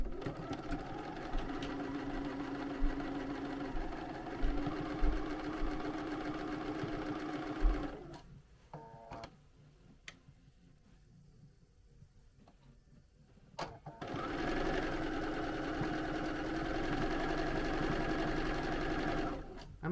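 Sewing machine running a basic straight stitch on a sweatshirt, a steady humming whir for several seconds, a pause with small clicks, then the motor resuming its even run.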